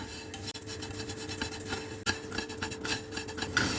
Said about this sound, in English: keep mixing this poha so that it gets evenly roasted